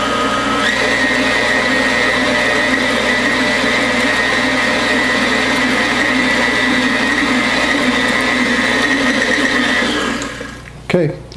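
Electric mixer whirring steadily on eclair choux batter for a final mix, a loud continuous motor whine with a faint voice underneath, then cutting off near the end with a brief clatter.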